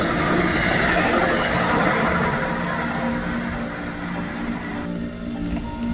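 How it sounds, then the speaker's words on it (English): Amtrak train P283, led by a P42 locomotive, rumbles past with a loud, steady roar and rolling rail noise that eases slightly near the end. "The next train I would see would be Amtrak train P283, being led by a P42 in Amtrak's shiny new Phase 7 paint scheme."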